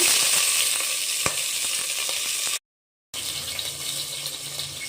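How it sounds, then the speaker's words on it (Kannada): Onion, green chillies and curry leaves sizzle in hot oil for a kushka, a loud, close, continuous frying hiss that cuts out briefly to silence and then resumes. "ಎಲ್ಲ ಒಂದೇ 1 ನಿಮಿಷ ಫ್ರೈ ಮಾಡ್ಕೊಳ್ಳೋಣ"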